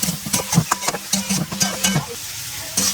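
Shrimp frying with garlic and chili in a pan, crackling and sizzling with irregular spits and pops, close up and unaccompanied by speech.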